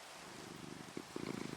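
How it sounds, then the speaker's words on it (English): A cat purrs softly up close, a low rhythmic rumble with gentle pulses that grows more distinct toward the end. "Cat starts to purr."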